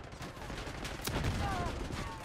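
Gunfire in the video game Black Ops 6, heard as sustained bursts of in-game shooting throughout with a louder burst near the middle, under game ambience.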